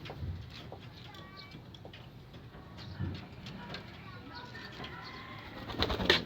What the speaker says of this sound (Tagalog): Ito yung mga ibon natin oh.